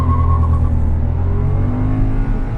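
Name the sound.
Renault Kiger 1.0 non-turbo three-cylinder engine revving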